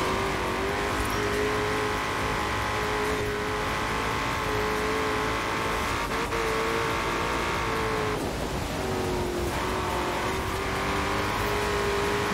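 A Ford Mustang GT in the racing game Forza Horizon 4 drones at high revs, with a steady engine note that dips and climbs at gear changes throughout, loud and alone without talk.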